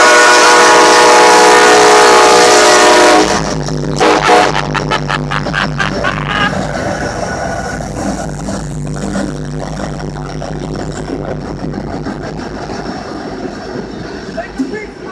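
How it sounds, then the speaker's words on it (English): A loud train horn blasts for a few seconds, then a Kansas City Southern train rumbles and clatters past close by, with voices talking over it. "Here comes the train, train fans."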